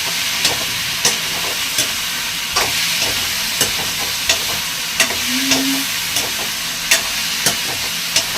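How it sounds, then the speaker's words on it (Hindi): Cashews, almonds, tomato and green chilli roasting lightly in a pan give a steady soft sizzle with periodic scraping stir clicks, close and alone throughout. "अब इनको थोड़ा मैं ऐसे भून लूँगी हल्के से।"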